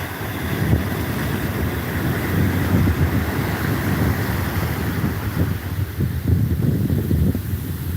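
Atlantic Ocean waves washing in and out on the shore, a steady low rush of surf mixed with gusty wind buffeting the microphone, continuous and fairly quiet with no talk.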